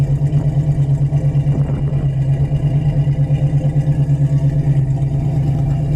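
A 1966 Ford Mustang V8 engine idles close by with a steady, throbbing low rumble and a slight rhythmic lope, running alone without voices.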